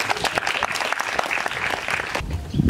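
Audience applauding at a health centre opening in Songon, a dense sustained round of clapping that tapers slightly near the end, where a voice starts to come through.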